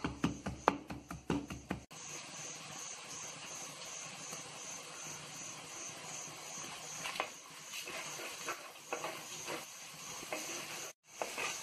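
Ginger and garlic sautéing in a pan for South Indian vada curry, a steady close sizzle and hiss running throughout, with a few knocks and scrapes at the start and a brief break near the end.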